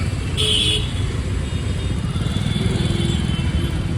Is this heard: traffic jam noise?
yes